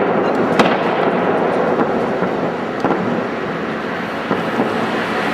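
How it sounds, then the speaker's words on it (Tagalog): Fireworks set off in the streets of Shanghai give a steady crackling roar with several sharper bangs standing out, loud and continuous throughout. "Mga fireworks dito sa kalsada."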